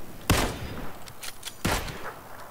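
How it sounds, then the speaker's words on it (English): Gunfire from an enemy player in PUBG: two separate bursts of shots, each a sharp crack followed by a fading tail, heard fairly quietly and at a distance against a low background. "His teammate's shooting."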